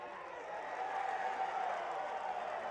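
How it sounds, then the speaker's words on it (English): A high school playoff crowd of Episcopal fans cheers and applauds steadily, a broad wash of clapping and voices heard from a distance over the game. "And the Episcopal crowd getting into it again"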